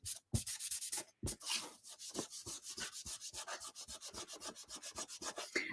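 Steady rubbing strokes on top of a craft tray, a dry rhythmic scraping repeated about three times per second, close and fairly quiet, with two short pauses early on.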